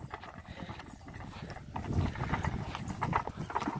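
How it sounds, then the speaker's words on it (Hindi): A piebald Kathiawari mare walks along, her hooves giving a faint, uneven clip-clop against steady outdoor background noise. "अबलग घोड़ी आ रही है"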